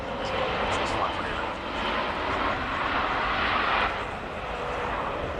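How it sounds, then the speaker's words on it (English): An Airbus A400M flies past at the Royal International Air Tattoo with its engines throttled back to idle and its flaps lowered, giving a loud, steady, broad roar that swells slightly and then eases. "Hold on quiet as the aircraft engines are brought back to idle, and eventually the flaps should be being lowered as the aircraft comes through in the full configuration pass."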